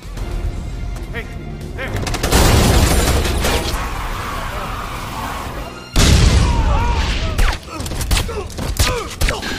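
A car crashes into a house during an armed attack in an action film. Loud booms and bursts of rapid gunfire alternate with a sudden heavy impact midway, and voices are mixed in.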